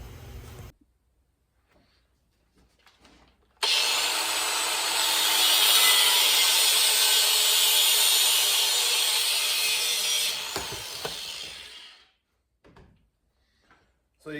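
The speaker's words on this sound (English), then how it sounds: "So you cut the stuff with a grinder" A grinder cuts through a high-pressure fuel line during an EFI install. It gives a loud, sustained, harsh whine for about eight seconds, then winds down, with quiet stretches before and after.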